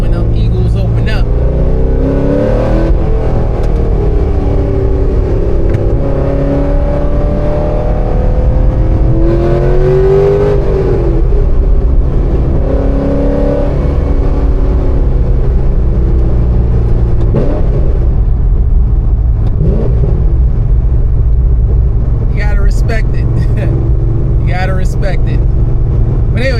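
A 600hp Corvette C6 Z06 with an opened-up exhaust, revving and roaring loudly and continuously with rising and falling pitch, with someone talking over it.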